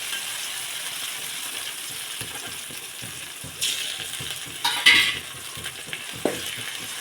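Onion, tomato and ginger paste sauté quietly in a pan, a low sizzle broken by a few brief utensil clinks and scrapes against the metal.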